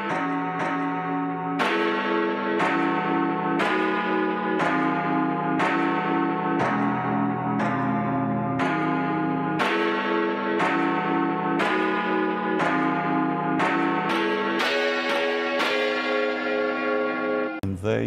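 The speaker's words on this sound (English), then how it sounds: "That was the last time, for some time at least, until Remembrance Sunday, we believe, that bell will sound out across the city, out across London." Big Ben's bells chime in London in the last midday chime before repairs, a long sequence of loud, resonant strikes that ring out one after another, each decaying into the next, with a final deep toll near the end.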